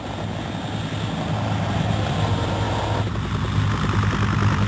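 Archive recording of a helicopter in flight during the 1975 evacuation of Saigon, a continuous loud engine and rotor drone that holds steady throughout.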